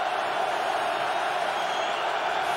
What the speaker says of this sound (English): Crowd revs it back up.